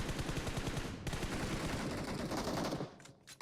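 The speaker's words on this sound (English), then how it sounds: "That is a very up close and personal grenade." Dense, sustained blast and rumble from a close-range grenade explosion in PUBG Mobile, loud and continuous for nearly three seconds before dropping off abruptly, with a couple of brief sharp clicks at the end and no talk.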